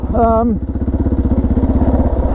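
A dirt bike rides a track in first and second gear, its engine close and loud with a steady, rapid pulsing rhythm; a short spoken sound comes just before it.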